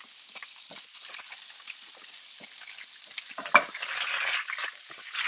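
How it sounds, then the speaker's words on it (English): Steady hiss and crackle of broccoli and bok choy sizzling in hot oil in a pan, with occasional sharper pops and a brief stirring scrape, no talking. "And a little bit of a sizzle there."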